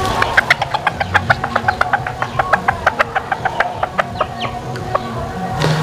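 Young chickens on a small farm cluck in quick repeated bursts as they draw near, a busy rhythmic chorus of short calls over faint background noise.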